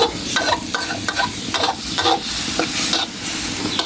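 Minced pork and holy basil stir-fry sizzles in a hot pan after a splash of water goes in. A loud, steady hiss is broken by repeated sharp scraping strokes of a spatula, close up, with no talking.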